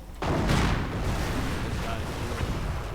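Mortar fire in a World War II real-time strategy game, a heavy booming blast that rolls into a sustained rumble of distant battle noise; a commentator talks over it.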